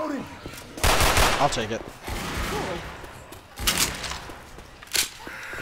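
M16 assault rifle fire in a Left 4 Dead-style shooter game, loud bursts of automatic shots in separate volleys, with people talking over and between them.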